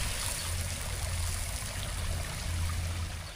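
Water splashes steadily in a garden fountain in central Palermo, a continuous broadband rush with no pauses and no voices over it.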